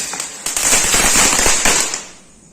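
Rapid crackling bursts of Diwali firecrackers outdoors, loud and near, with a dense spray of sharp pops that fades out near the end.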